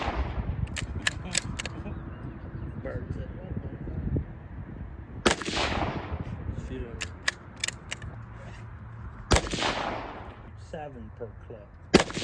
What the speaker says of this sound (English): About to shoot these bowling pins.